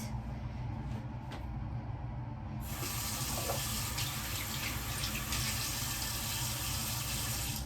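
Water from a bathroom tap pours steadily into a sink while a face is washed with a gentle papaya enzyme cleanser, the flow growing louder and brighter partway through, close and without speech.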